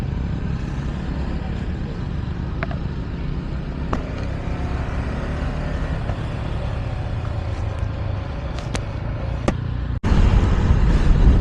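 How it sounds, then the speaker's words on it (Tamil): Road traffic around a bike ride through Vellore, with a steady broadband roar of passing vehicles and engine rumble throughout, growing louder near the end. "இப்போ கூட லைட்டாக டிராஃபிக்காக தான் இருக்குது."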